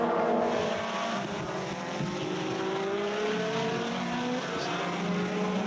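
A Lotus Evora GT4 race car drives at speed at Hockenheim, its engine a sustained loud drone with shifting pitch as it passes during a 2015 Lotus Cup Europe race.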